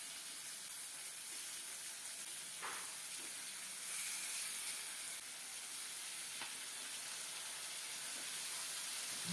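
Marinated rohu fish pieces laid one by one into a pan of browned onions frying in oil, giving a faint, steady sizzle with a few soft clatters, no talk.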